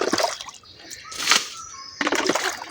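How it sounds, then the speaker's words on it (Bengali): Dirty water left from washing a homemade swimming pool is tipped out in a few short splashing gushes, near and fairly loud, with brief trickling pauses between pours. "এই ময়লা পানিগুলো ফেলে দিতে হবে"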